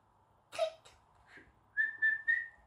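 A human voice mimics a dolphin's squeaks and whistles: a short squeak, then three quick, clear rising whistles close to the mic, with no talk over them.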